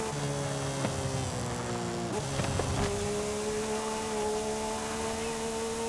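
A Porsche Cayman GT4 RS on slick tires in Forza Horizon 5 gives a high, steady race-car engine tone that shifts pitch midway, then holds a sustained drone.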